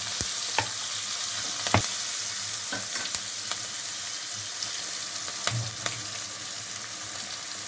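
Onions and green chillies frying in hot oil for a mutton dry curry, a steady dense sizzle with occasional sharp clacks of a spoon stirring the pan, close and continuous.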